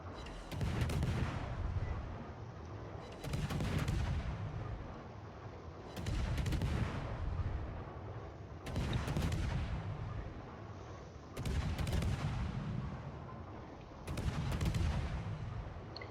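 Warship guns firing in a naval video game, a series of six heavy booming salvos at roughly even intervals, each with a fading rumbling tail, no talk over them.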